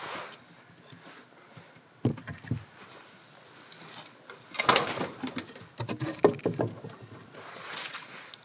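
Young pigeons coo softly in a loft with a plywood floor, with scattered bursts of cooing and rustling close by among quieter stretches and no talking.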